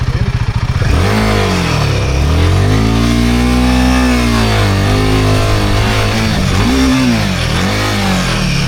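Engine of a Royal Enfield Himalayan 450 motorcycle, loud and close, revs up and bogs as it climbs over an obstacle off-road in Sweden, with pitch rising and falling in uneven surges and some clatter.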